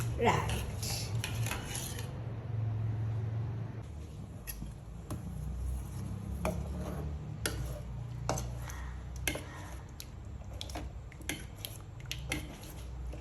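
Thick breadfruit porridge stirred in a pot, with a run of sharp, irregular clicks and knocks of the spoon against the metal rim over a low background rumble.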